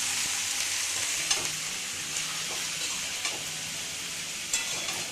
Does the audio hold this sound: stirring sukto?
yes